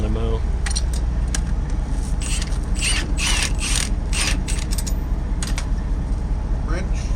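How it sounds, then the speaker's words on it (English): A hand wrench ratchets in quick clicking bursts, close and fairly loud, over steady background hum with a voice talking faintly at times. "Wrench."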